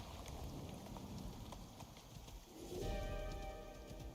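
Horse hooves clop in a steady running rhythm in the survival video game ICARUS, soft and fairly faint, with wind and ambient game sounds around them and a brighter tonal effect entering near the end.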